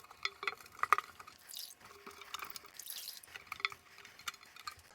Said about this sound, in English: I'm going to clean my tank, the inside of the tank, and all I'm going to use is just regular water.